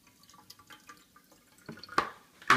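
Central heating system water being poured back into a container, heard as a quiet run of drips and trickles that ends in a couple of louder splashy pours.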